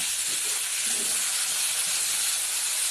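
Taro pieces go into a hot pan for ginataang gabi and set off a loud, steady sizzle, a dense hiss that holds without letting up, with no voices over it.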